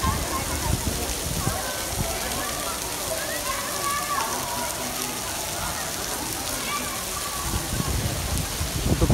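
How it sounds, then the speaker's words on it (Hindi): Heavy rain hisses steadily on surfaces nearby at Faisal Masjid, Islamabad, with faint voices and madrasa children's chatter in the background. "एक दफ़ा फिर बारिश ज़ोर पकड़ चुकी है"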